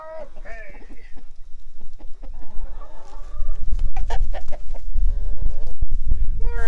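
A chicken clucks and squawks repeatedly while being caught on a farm, with agitated calls and scuffling growing louder and closer, and people talking in the background.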